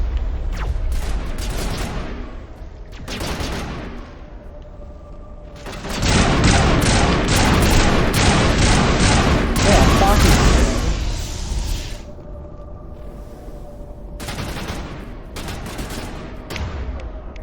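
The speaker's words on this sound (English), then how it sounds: "Shotgun." Mass Effect shotgun fire in a combat scene, with heavy booming blasts in a dense cluster mid-way and scattered shots before and after, loud and close over game noise, with a player talking at times.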